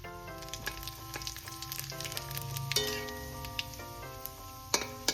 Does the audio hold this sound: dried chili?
yes